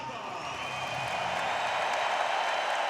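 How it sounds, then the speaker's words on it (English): A stadium crowd at the Berlin 2018 athletics championships roars and applauds as a German hurdler is introduced before a men's 110m hurdles semifinal, a loud, steady wash of cheering and clapping held throughout. "Roar goes up from the crowd"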